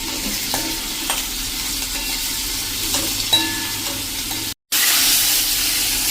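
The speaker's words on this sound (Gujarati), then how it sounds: "કેપ્સિકમ મરચાંને કૂક કરી લઈશું." Capsicum sizzling in a hot pan with salt while being stirred, a steady close frying hiss with occasional scraping taps, cut by a brief silent gap before the sizzle resumes.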